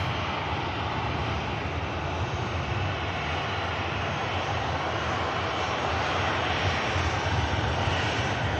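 A jet airliner at Manchester Airport, an A321neo bound for Reykjavik, roars steadily with loud broadband engine noise that holds unbroken and fairly close throughout, with no voices.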